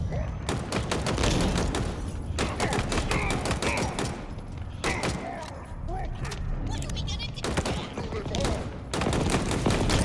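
Rapid bursts of automatic gunfire from a fast-firing, low-damage weapon in the shooter game Halo Infinite, loud and dense with short pauses between volleys, while someone talks over the shooting.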